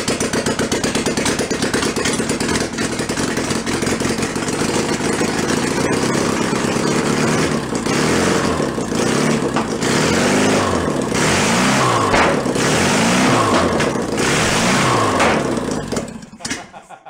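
A rebuilt air-cooled VW Bus engine running loud with no exhaust fitted, a harsh continuous roar held at full throttle with rising and falling revs through the middle and a sudden cutoff at the end.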